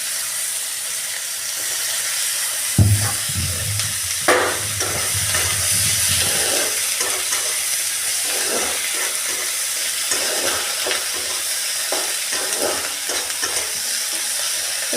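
Chopped onions and green chillies fry in hot oil for a rohu fish kalia, a sharp sizzle bursting up as they go in, then a steady close hiss broken by repeated scrapes and clacks of stirring.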